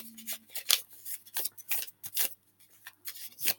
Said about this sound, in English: So I'm going to fold that towards me.